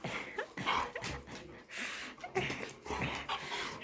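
A chihuahua and a pit bull pant, snort and whimper close by in a domestic setting, with breathy bursts and short vocal noises in an uneven rhythm throughout.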